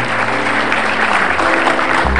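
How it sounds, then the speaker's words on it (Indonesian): A studio audience at an evening comedy talk show claps loudly and continuously in a dense, even wash of applause, with a low tone entering near the end. "tepuk tangan sekali lagi"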